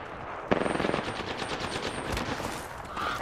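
Gunfire in Apex Legends: a fast automatic burst of close, loud shots lasting a couple of seconds, followed by quieter game sounds.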